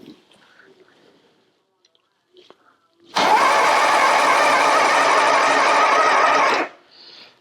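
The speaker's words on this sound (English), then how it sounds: "First test, see if it cranks." An engine cranks over on its starter, driven by a solenoid shorted straight to a 12-volt battery, a loud, steady churning burst of about three and a half seconds that starts abruptly and stops cleanly, with quiet moments before and after.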